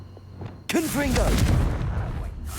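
A Confringo fire spell blast in the Hogwarts Legacy video game, an abrupt loud burst followed by fizzing, crackling whooshes and rumbling debris that trail off over about two seconds, with some voice-like sounds mixed in.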